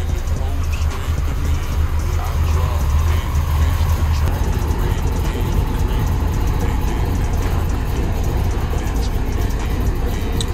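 A Shelby GT500 fitted with a new X-pipe exhaust idles nearby, a loud, deep, continuous rumble that holds steady, with voices talking faintly underneath.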